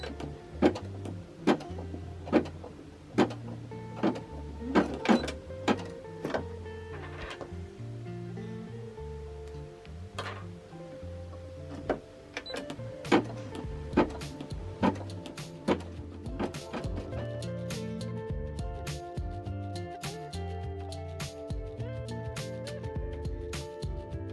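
An embroidery machine stitches a paw pad design, with rapid rhythmic mechanical clicking and whirring, interrupted by occasional sharper clacks as the hoop moves, close and moderately quiet.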